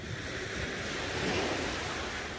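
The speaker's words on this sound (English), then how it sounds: "Peaceful waves roll in towards the shore." Ocean waves roll onto a calm shore with a steady, soft wash of surf and a breathy wind noise, continuous and even, with no voices.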